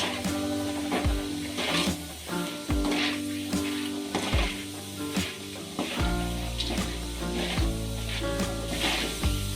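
Roasted chickpeas frying in hot oil: a steady close crackling sizzle, broken by repeated metallic scrapes and clinks of a spoon against the pan at a loose, regular pace.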